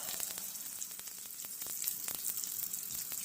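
Rehydrated freeze-dried brisket sizzles in a warm pan, a close, soft crackle with scattered pops throughout, no voices.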